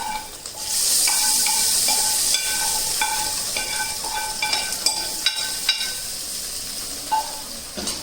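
Hot tadka poured over palak paneer, a sudden loud hiss and sizzle that holds steady, then fades gradually, with scattered clinks and small metallic scrapes of a spoon and pan throughout.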